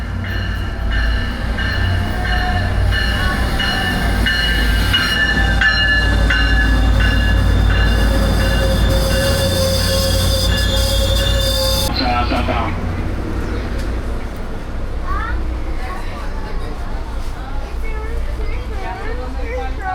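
A Tri-Rail commuter train in Florida rumbles loudly at close range, with sustained high metallic wheel squeals that cut off partway through, followed by softer rolling noise and voices talking.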